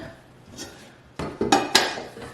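A small saucepan and its lid being handled: a few light metallic clanks and taps, the last ones louder and ringing briefly, close by and with no talk.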